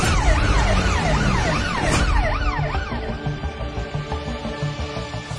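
An ambulance siren wails in a fast, repeated up-and-down sweep, loud and close at first, then settling into a steadier, quicker pulsing tone over vehicle rumble, with no voices.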